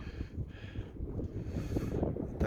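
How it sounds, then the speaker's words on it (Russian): Cold wind buffets a fishing boat on the Volga River, a steady, rough blustering with low rumble and microphone gusts, no voices. "И ветер, видите, какой сидит, волна поднимается"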